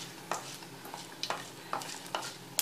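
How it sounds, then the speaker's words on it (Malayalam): Mustard seeds and dried chillies fry in hot oil for Kerala koottu curry, making quiet sizzling broken by a handful of sharp, scattered pops and crackles. "കടുകും മുളകും വറുത്തിടുമ്പോൾ കടുക് പൊട്ടി തെറിക്കാതെ"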